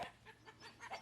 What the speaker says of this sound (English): my chickens decided to be so feisty all of a sudden